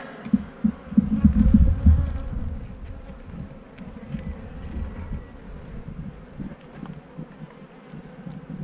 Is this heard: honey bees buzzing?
yes